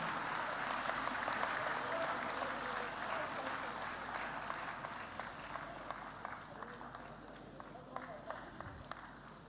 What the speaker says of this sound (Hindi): जोरदार तालियों से हमारे प्रवासी भारतीयों का सम्मान करें।